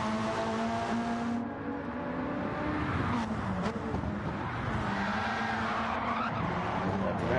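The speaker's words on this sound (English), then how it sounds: "Using the handbrake there to get the car rotated." Engine howls and tires skid as a four-wheel-drive rally car is flung into a tight hairpin with the handbrake and slides around it in a racing video game, the steady loud roar running unbroken throughout.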